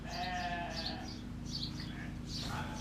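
Painted Desert lambs bleat in a farm setting, several wavering cries overlapping close by, with steady background noise throughout.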